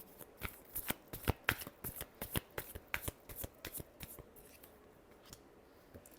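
Tarot cards being shuffled by hand: a quick run of crisp riffling flutters and snaps, close and fairly soft, thinning out toward the end.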